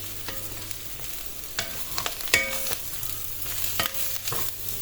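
Rice grains toast in a pan and are stirred, with irregular scraping strokes and light clicks over a gentle, steady sizzle, close and moderately loud.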